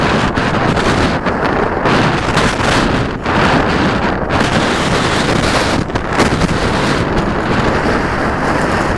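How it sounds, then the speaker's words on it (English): Strong gusty wind buffets the microphone outdoors, producing a loud, continuous rumbling roar that surges and dips for the whole stretch with no voices over it. "I think this is too windy for flying."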